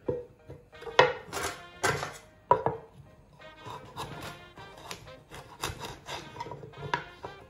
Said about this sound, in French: les carottes, je les coupe en biseau